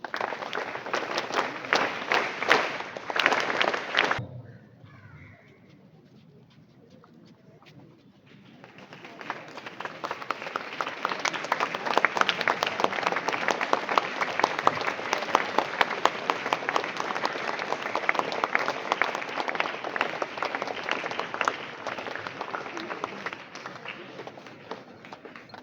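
Audience clapping at a Monday school assembly, loud sustained applause from many hands that drops away briefly, then swells back and continues steadily to the end.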